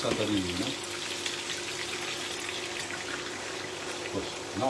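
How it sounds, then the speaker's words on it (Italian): Wine splashes into a hot pan for an Italian fish soup and sizzles and hisses continuously for several seconds, close and fairly loud, while a person talks over it. "adesso io ci faccio una bella spruzzata di vino"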